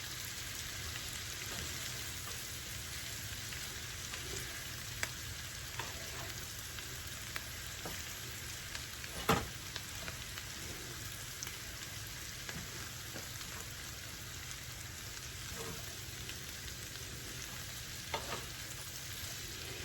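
Chopped cabbage frying and being stirred in bacon and sausage grease over lowered heat, a steady quiet hiss and sizzle with occasional soft scraping clicks, no talking.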